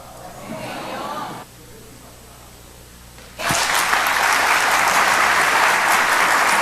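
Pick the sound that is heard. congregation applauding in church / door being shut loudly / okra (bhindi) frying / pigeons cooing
congregation applauding in church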